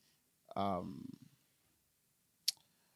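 A single sharp mouse click on a Next button during an Ubuntu 22.04 install in VMware Workstation Pro, faint and brief, following a short spoken phrase.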